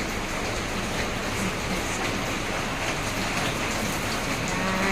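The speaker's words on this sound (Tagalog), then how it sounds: "yung ulan namin non-stop na siya" Steady, heavy typhoon rain pouring down in Taiwan, a dense continuous hiss of drops hitting surfaces nearby, unbroken throughout.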